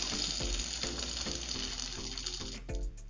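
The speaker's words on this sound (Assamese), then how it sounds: "তেলখিনি গৰম হৈ গৈছে, ইয়াতে মই এতিয়া পিঁয়াজখিনি দি দিম" Onions dropped into hot oil for an Assamese fried dish, giving a steady, close sizzle and crackle throughout, with a few soft clinks and stirring knocks over the frying.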